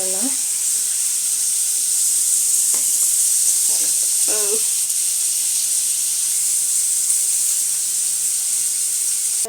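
A pot of chicken gravy for chicken biryani is opened, letting out a continuous bright hiss of steam that holds steady, with brief murmured voices in the background.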